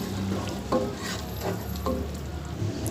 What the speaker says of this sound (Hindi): इसको अच्छे से मिक्स कर लें स्लो आंच पे ही।